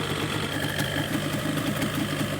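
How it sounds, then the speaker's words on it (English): A 1991 Yamaha Banshee ATV, newly recommissioned after long storage, idles steadily nearby with an even, slightly rough two-stroke burble and no voices. "As we listen to the ATV,"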